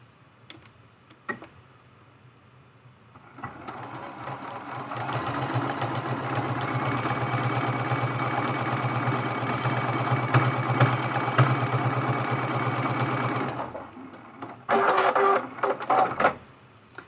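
A sewing machine runs steadily through a seam on pin cushion fabric for roughly ten seconds, with faint handling clicks before and a couple of short bursts of stitching after.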